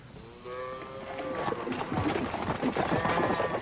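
Cattle being gathered for a sulfur dip on a Western ranch, with a few low moos and lowing close by over a rising rumble of hooves and milling livestock.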